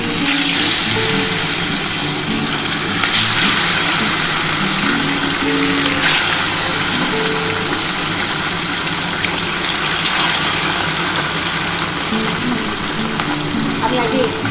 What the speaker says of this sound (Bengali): আমি আগে কটা ভেজে নিই